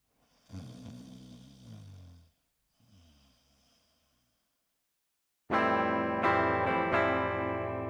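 Amicus snores gently, two soft, low breathing snores with a pause between them. Then loud, bright music suddenly swells in and holds steady.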